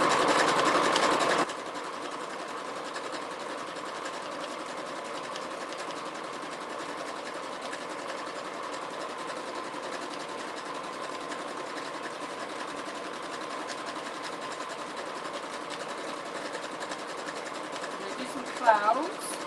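A sewing machine runs steadily in zigzag stitch for free-hand appliqué machine embroidery, a constant close mechanical whir after a brief louder start, with a small knock near the end.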